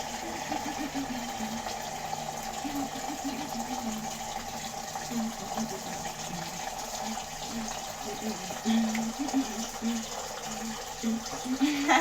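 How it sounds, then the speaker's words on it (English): A kitchen tap runs steadily while Irish potatoes are washed, giving a faint continuous water flow with a low background hum and brief splashing bumps near the end. "This tap water."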